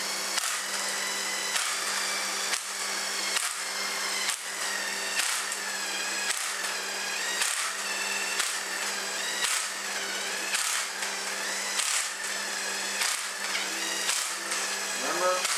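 A power tool with a 9mm socket drives bolts on a 4R75E transmission during an overhaul, a loud whirring buzz in repeated short bursts with brief pauses between each bolt.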